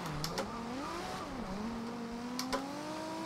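A race car engine in Forza Horizon 2 revs up and down during a drift, its pitch rising and falling in a steady whine, with a couple of short clicks standing out.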